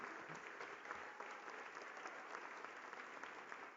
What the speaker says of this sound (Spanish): Otro aplauso con tanta emoción para nuestra ministra del Pueblo, Lenia Batres Guadarrama.